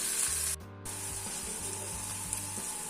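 Meat and other ingredients sizzle in a pan as they are stirred, a steady frying hiss with a brief drop in the middle, and low background hum beneath it.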